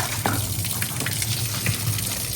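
Water gushes and splashes steadily across a very dirty backyard courtyard being washed down, a continuous close, loud rushing flow with no talk.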